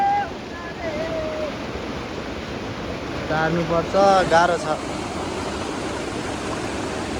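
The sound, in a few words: large river flowing while buffalo crosses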